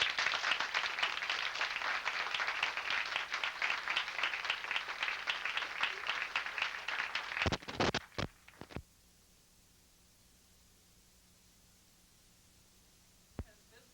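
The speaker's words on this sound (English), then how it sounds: "Help me with your applause." Audience applause at a library staff anniversary event, a dense steady wash of clapping for about seven seconds that thins into a few scattered claps and then stops, leaving near silence with one late isolated clap.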